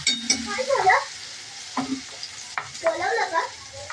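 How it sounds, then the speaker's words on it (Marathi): Onion and tomato fry in oil while a spoon scrapes and stirs them around the pan, with a soft hiss under intermittent clattering strokes. Faint voices murmur in the background. "कांदा भाजून घेतला की टमाटा भाजून घ्यायचा."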